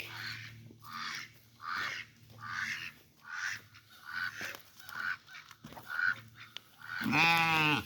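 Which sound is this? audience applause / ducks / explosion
ducks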